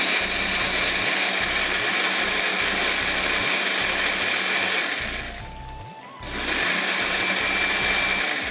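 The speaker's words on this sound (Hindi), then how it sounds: "और अब मैं इसको ब्लेंड कर लेती हूँ बारीक" A blender finely chops chicken for chicken Manchurian, running with a loud continuous whir. A brief dip near the end is where the motor eases off, and then it resumes at full roar.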